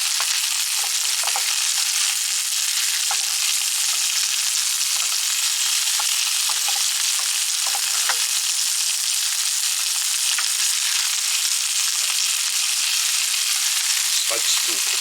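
Onions and tomatoes fry in a hot pan, giving a loud, dense sizzle that hisses steadily the whole time with small crackles scattered through it.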